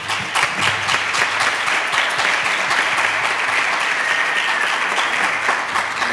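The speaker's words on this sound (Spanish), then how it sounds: "damos un gran aplauso a Ángel Berlana." Sustained audience applause following a conference talk at an education event, a steady dense wash of clapping from a full room lasting throughout, with no speech over it.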